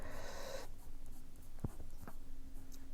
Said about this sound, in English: I'm going to just write here.